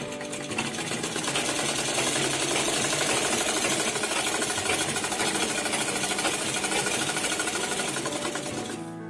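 A sewing machine runs continuously, stitching skirt fabric for a step skirt with a fast, even mechanical rattle that stays loud and close before easing off at the very end.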